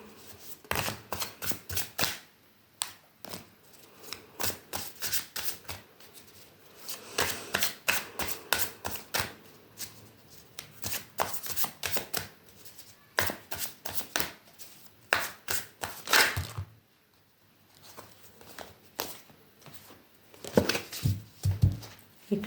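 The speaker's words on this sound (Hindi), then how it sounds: "एक लास्ट शफल ले लेती हूँ," Tarot cards are shuffled by hand in repeated bursts of rapid, crisp riffling and flicking, close and fairly loud, with short pauses between rounds and no talking over them.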